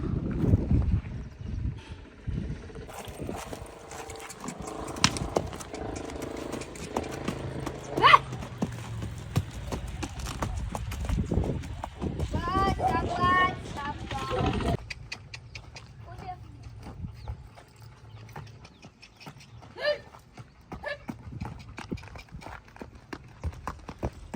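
Horse hooves clip-clop in irregular steps, fairly near, from a mare that has just foaled, over outdoor background noise with people talking throughout.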